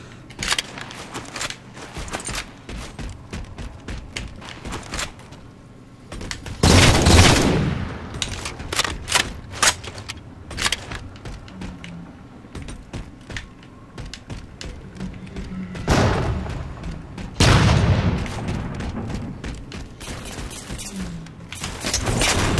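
Gunfire in the Halo 4 video game: dense rapid bursts and sharp shots mixed with two heavy booming blasts, close and loud, scattered irregularly, with faint clicks in the quieter stretches.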